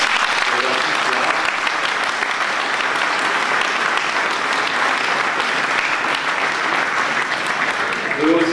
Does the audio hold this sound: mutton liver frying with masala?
no